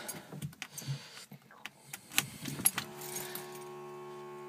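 Keys jingle and click against the ignition of a 1964 Saab 96, a few quiet metallic rattles and taps up close in an otherwise still car.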